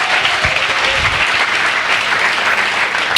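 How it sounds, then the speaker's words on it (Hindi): Loud, dense applause from an audience at a speech fills the space, a steady unbroken wash of many hands clapping together. "जोरदार ताली।"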